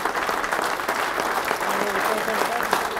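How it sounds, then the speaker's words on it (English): Audience applause for the weekend's top money winner at a kayak fishing tournament awards ceremony, a steady, dense wash of clapping that carries evenly through the clip with some talking mixed in. "let's give him a real good round of applause"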